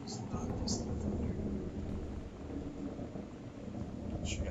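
Thunder rolling in Gone Home, a low continuous rumble with steady rain and storm noise, heard indoors at moderate loudness alongside someone talking.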